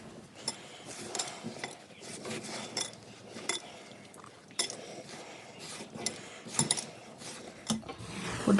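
Thattuvadai dough being mixed with butter, salt and chilli in a metal bowl, producing irregular scraping, rubbing and clinking against the vessel, close and moderately quiet throughout, with no speech.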